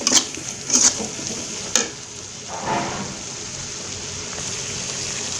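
Spice paste with turmeric and salt is stir-fried in a pan for a fish and vegetable curry, with a soft steady sizzle, a few sharp clinks of a spoon against the pan and light scraping strokes.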